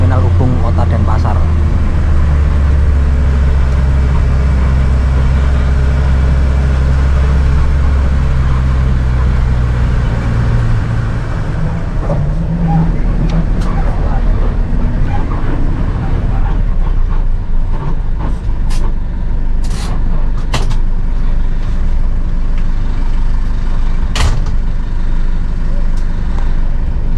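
A Sehati intercity bus pulls out of Ubung Terminal in Denpasar, Bali, at night. A steady low engine rumble fills the first half, then thins into lighter road and terminal noise with scattered clicks and voices in the background.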